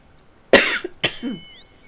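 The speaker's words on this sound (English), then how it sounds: "Sorry, I've developed a cough." Two sharp coughs in quick succession, close and fairly loud, followed by quiet.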